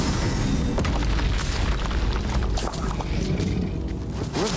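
Confringo fire spell exploding in the Hogwarts Legacy video game, a dense, continuous booming roar with crackling bursts throughout, loud and close, with no talk.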